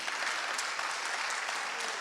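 Applause for the staff of a ministry of youth and culture, a steady, fairly faint wash of many hands clapping that holds evenly throughout without any voices.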